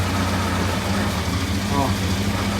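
A Chevrolet Chevette idles with a suspected worn clutch disc or low gearbox oil, a steady low engine drone close by with a faint rattle, while someone talks over it.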